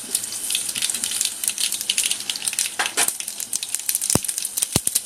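Mustard seeds crackle and spit in hot oil with crushed garlic for a Malvani tomato saar tempering, a bright steady sizzle studded with sharp pops, growing busier toward the end.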